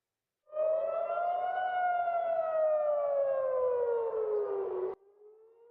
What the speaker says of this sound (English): siren sounding over Jerusalem earlier, sending people running for shelter